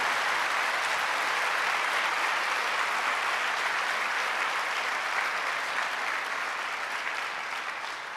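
A church congregation claps for the Lord in sustained, thick applause that fills the room evenly, easing off slightly in volume toward the end.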